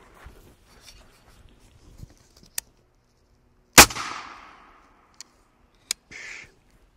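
A 6.5 Creedmoor rifle firing 147 grain Hornady ELD Match rounds into a level 4 stand-alone armor plate outdoors: one loud, sharp crack with a short ringing tail stands out, surrounded by a few fainter distant pops and clicks.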